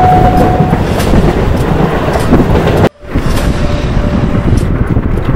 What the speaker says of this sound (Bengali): আর এই যে এই ট্রেনটা ধরবো।